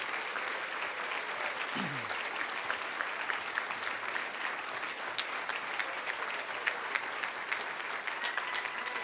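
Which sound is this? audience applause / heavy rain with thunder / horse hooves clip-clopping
audience applause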